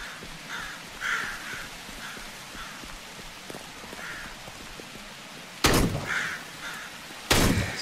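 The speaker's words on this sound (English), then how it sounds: "the zombies, the crows as well" Crows caw repeatedly at moderate distance in the rainy world of Dead Frontier 2, their harsh calls spaced irregularly over a steady patter of rain, with two abrupt loud bangs near the end.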